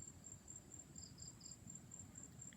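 Crickets chirp outdoors in a continuous, thin, high trill that carries steadily throughout, faint and distant over a low ambient rumble with no talking.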